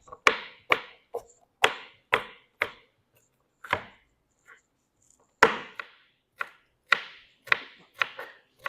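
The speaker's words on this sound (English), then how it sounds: "So cutting the peppers nice and small also" A knife chops bell peppers into small pieces on a board for a pupusa filling, a run of crisp, close, sharp cuts in uneven bursts with short pauses between them, no talking.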